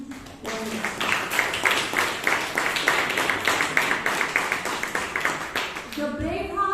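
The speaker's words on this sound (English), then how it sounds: "Can we have a big round of applause for the new members?" A Bangalore Toastmasters club meeting applauds its new members: a room of people claps quickly and steadily, fairly close, for several seconds before a voice breaks in at the end.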